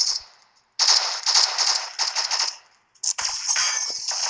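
Bursts of rapid automatic gunfire from a weapon in a video game, two long volleys with a short pause between them, loud and close with no talking over it.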